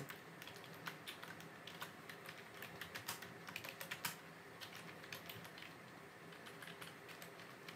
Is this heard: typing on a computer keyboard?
yes